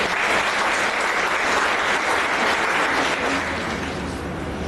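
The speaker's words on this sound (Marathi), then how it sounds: "डॉक्टर नीरज, दीप्तीताई, रमाकांत सर आणि त्यांच्या टीमसाठी जोरदार टाळ्या मिळाल्या" An audience at a Sneh Melava 2024 gathering applauds loudly for the doctors and their team, a dense, sustained wash of clapping that holds steady without talk.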